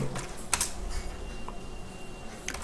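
Keys clicking as a ChatGPT prompt is typed on a computer keyboard, a few quiet scattered taps with a sharper cluster near the start and another at the end, heard alone against soft room noise.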